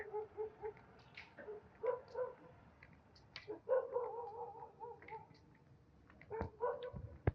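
Three dogs outdoors bark, yip and whimper in scattered bursts while chasing another dog, moderately near and fairly quiet, with brief pauses between outbursts.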